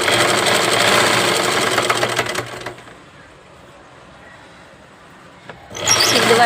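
A sewing machine stitches cloth near the sleeve joints of a garment, whirring loudly and steadily up close for a couple of seconds, falling quiet, then starting up again.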